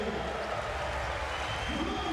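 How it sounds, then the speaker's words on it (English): A home crowd cheers and applauds North Macedonia at a EuroBasket 2025 qualifier basketball game, a steady, loud wash of clapping and voices across the whole arena. "Big cheer for the home team, North Macedonia"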